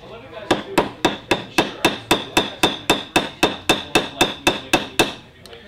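Mallet strikes on leather in a leatherworking setting, a rawhide or plastic mallet tapping about sixteen times in a steady, even rhythm, each hit sharp and close with a brief ring.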